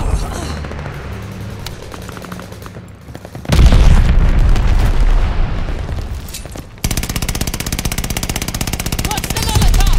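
Heavy explosions and gunfire from a bombing run in Call of Duty: Vanguard, with booming blasts and crackling fire that swell loud and then give way to a steady, dense rattle, and voices faintly underneath.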